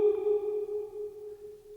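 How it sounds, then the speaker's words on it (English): A sustained note rings out through a long three-second reverb on a live looping pedal, holding steady, then slowly thinning as the tail fades, with no voices. "So this is the long reverb."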